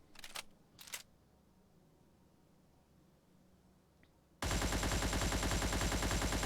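Worn AN-94 Abakan rifle firing 5.45 ammo in a shooter video game, a sustained loud burst of rapid automatic gunfire after two brief clicks and a quiet pause, close and alone.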